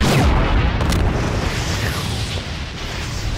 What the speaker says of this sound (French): Première explosion